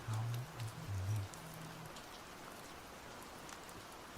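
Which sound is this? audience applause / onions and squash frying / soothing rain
soothing rain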